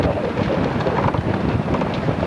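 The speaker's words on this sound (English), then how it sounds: "We got excellent winds." Strong steady wind buffets the microphone aboard a chartered sailboat off Tortola near Peter Island, a continuous loud rushing roar with no talk.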